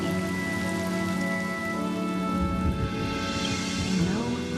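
Steady rain falls in the Honkai Star Rail video game, a dense continuous patter on surfaces with a soft tonal music bed underneath.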